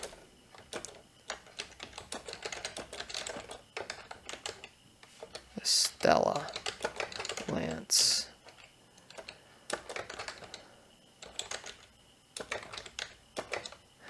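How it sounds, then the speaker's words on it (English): Bursts of fast clicking on a computer keyboard while entering land records, the typing coming in quick runs between pauses, with a person speaking briefly partway through. "I'm tired of typing it."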